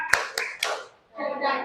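Children in an Indonesian primary classroom clap in a patterned routine: sharp, close claps, then a short pause and a burst of voices chanting together.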